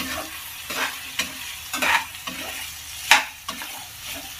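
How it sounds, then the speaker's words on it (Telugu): Boiled green peas frying and being stirred in a pan, with a steady sizzle and repeated scraping stir strokes, one sharper clatter standing out near the end. "ఉడకబెట్టుకున్నటువంటి గ్రీన్ బఠానీని ఇందులోకి వేసుకొని ఫ్రై చేయాలి"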